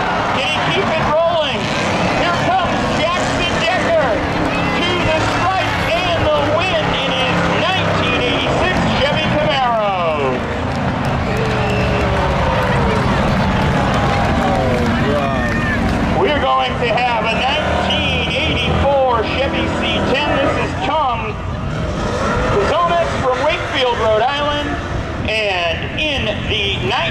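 Race car at Seekonk Speedway spectator drags spinning through turns three and four, a loud continuous engine roar with shifting pitch sweeps throughout, heavy under a steady announcer's commentary.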